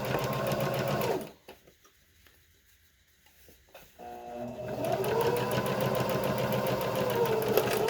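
A sewing machine top-stitches a fabric face mask, running in a fast steady whir, stopping for a few seconds of near silence with small clicks, then starting again and running on loudly and close.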